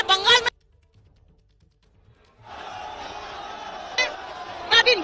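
Crowd noise at Amit Shah's road show in Bolpur: after a brief voice and a quiet pause, a steady roar of many voices rises and holds to the end, with a few louder shouts near the close.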